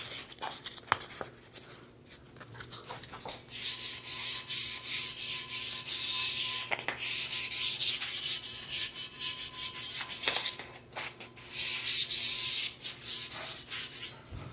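Steady rasping strokes of light sanding with sandpaper on a Diamondback BMX Viper JR bike part, repeated in a brisk back-and-forth rhythm, close and fairly loud throughout.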